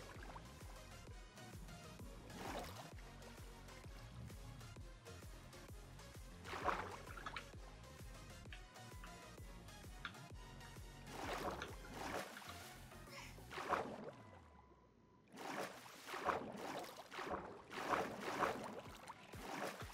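A Minecraft boat glides and splashes across water with a steady wash of paddling and lapping sounds, broken by a short quiet gap before the splashing resumes, faint with some background game noise.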